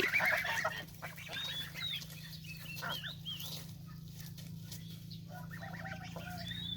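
A flock of goslings in a new coop honks and peeps continuously, many high, squeaky calls overlapping, close by, over a low steady hum.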